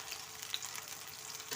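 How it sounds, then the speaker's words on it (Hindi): Potato tikki patties made without egg fry in a pan, giving a brief, steady oil sizzle with soft crackle and no voices. "आज हम बग़ैर अंडे के फ्राई कर रहे हैं।"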